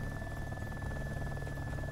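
Helicopter in the video game DayZ, a steady close rotor thrum with a fast regular chop and a constant high whine, running loud and unbroken.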